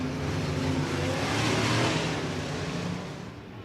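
Race cars pull back up to speed on a speedway during a feature race, a broad engine roar that swells toward the middle and then fades slightly at the end, with no voices.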